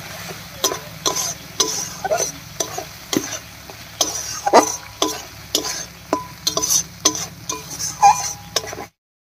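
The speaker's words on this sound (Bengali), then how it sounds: "গরম মশলার গুঁড়া দিয়েও একটু কষিয়ে নিয়েছি।" A spice masala with garam masala powder is stir-fried in a pan, the spatula scraping and tapping in a busy, rhythmic pattern over a low, constant sizzle, close and fairly loud.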